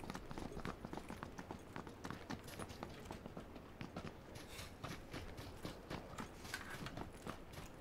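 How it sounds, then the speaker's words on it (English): Footsteps from the battle royale game PUBG patter in a fast, steady rhythm, faint and distant, with no voices over them. "I heard footsteps"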